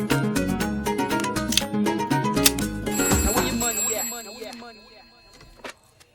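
A telephone rings repeatedly in a Hindi film scene, sharp bright ring bursts mixed with background music before fading out near the end.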